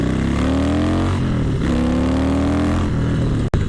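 Harley-Davidson 2017 Softail Slim S motorcycle engine drones steadily while riding, a loud, close rumble whose pitch rises and falls with throttle changes, ending with a brief sharp knock.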